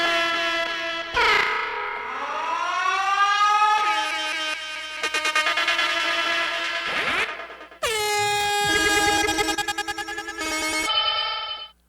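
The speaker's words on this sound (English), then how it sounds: "From there, we move into a whole bunch of really cool sirens." Loud electronic siren and horn-like tones, sliding up then holding steady, shifting through several pitched blasts and warbles in sequence.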